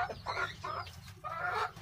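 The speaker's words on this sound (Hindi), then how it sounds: "पीछे मुर्गा बोल रहा होगा," A rooster kept in a separate cage calls from behind in a series of rhythmic, harmonic bursts, at moderate volume with no one talking.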